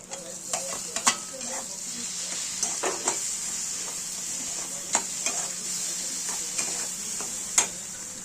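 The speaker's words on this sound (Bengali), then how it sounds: "এখানে আমরা মশলাটা দিয়ে ভালো করে মিশিয়ে দিলাম ডিমের মধ্যে" Masala is stirred into frying eggs for dhaba-style egg bhurji: a steady close sizzle punctuated by irregular ticks and scrapes of a spoon against the pan, with no voices.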